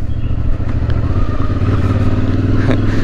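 A CFMOTO 450MT touring motorcycle rumbles loud and close while being ridden, its engine holding a steady throaty drone with slight shifts in pitch and a brief clatter near the end.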